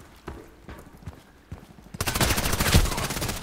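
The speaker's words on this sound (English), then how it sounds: "Running into my machine gun." Machine gun fire in the shooter game Contract Wars, starting with scattered sharp shots and breaking into a loud, dense sustained burst for the last second and a half, close and alone.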